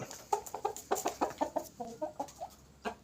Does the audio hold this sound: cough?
no